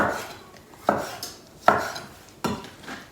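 A knife slices through ripe, juicy tomatoes for a panzanella bruschetta in a cooking class, making three distinct chopping thuds against a cutting board, each with a short wet crunch and squish, spaced under a second apart at close range.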